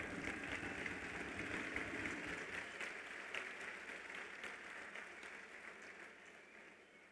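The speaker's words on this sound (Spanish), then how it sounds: "¡Fuerte el aplauso!" Audience applauding at a municipal event in San Felipe del Progreso, State of Mexico, a continuous distant wash of clapping that slowly fades toward the end.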